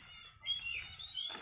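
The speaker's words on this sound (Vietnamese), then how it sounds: "Đây là chim chích chòe lửa à?" A white-rumped shama calls faintly in a quiet rural setting, giving thin, high, brief whistled chirps over soft low background noise, with no talking.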